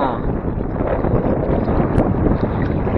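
Wind blows at sea during kayak fishing, a loud constant rushing buffet battering the microphone with no break, drowning out any other sound.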